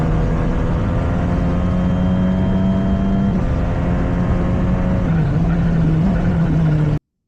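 Onboard a race car at full throttle on the Misano circuit in Italy, the engine drones loud and steady throughout, its pitch holding high with slight dips, close and unbroken until it cuts off abruptly.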